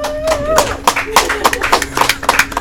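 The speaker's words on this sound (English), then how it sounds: "Let's hear some clapping. He got one clap." Scattered claps sound out one after another under ongoing talk, at a live stream show where a host asks for clapping for a guest.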